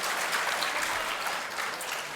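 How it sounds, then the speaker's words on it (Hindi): Audience applause at a mushaira, a poetry gathering in a cultural hall, welcoming a poet to the stage: dense, steady clapping from a crowd, fairly loud and sustained throughout with no talk over it. "जोरदार तालियों से इस्तकबाल कीजिए"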